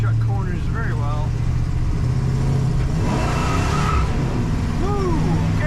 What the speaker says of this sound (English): I gave her a little throttle and we broke the tire loose, so she's got lots of power